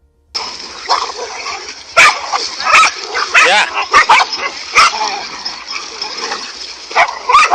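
Several dogs bark, yip and whimper in a frantic, close-up scuffle with a cobra, with sharp bursts of barking scattered through the commotion.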